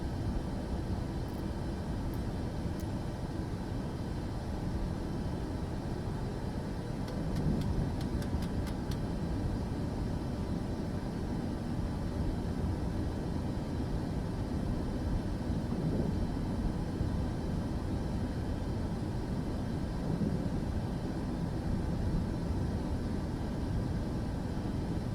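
A Boeing 737 after landing in Microsoft Flight Simulator 2024, a steady broadband engine and airflow roar that holds level throughout, with faint clicks near the start.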